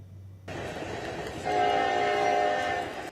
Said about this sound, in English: Trains continued along this busy rail corridor in East Palestine, Ohio, as Transportation Secretary Pete Buttigieg